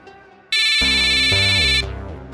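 A mobile phone ringtone blares loudly and close, a bright electronic melody that starts abruptly, rings for just over a second, then drops away, with no other sound around it.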